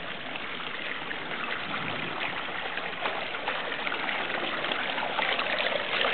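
Water flowing out over concrete into a swimming pool artwork, a steady broad rushing trickle and splash continuing without break, close and moderately loud.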